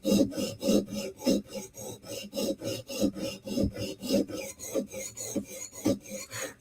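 A Para 3 knife with a Cruwear blade is stroked along a guided sharpener in a steady back-and-forth rasp, about three strokes a second. The scraping is close and even, with no talk.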